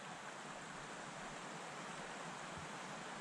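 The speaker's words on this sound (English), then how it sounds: "it's windy." Strong wind gusting around a remote backcountry camp on the South Boundary Trail in Jasper on a cold morning, a dense continuous roar close to the microphone with no voices.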